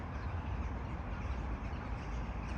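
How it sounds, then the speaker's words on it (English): Crows flying in to a roost caw from a distance, a faint chorus of calls buried in steady broadband outdoor noise. "That's a lot of crows."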